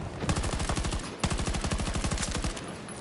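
Rapid automatic gunfire from Battlefield 2042, two long bursts of sustained machine-gun fire separated by a brief pause, loud and close.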